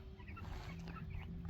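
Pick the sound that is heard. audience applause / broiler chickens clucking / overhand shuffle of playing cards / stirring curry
broiler chickens clucking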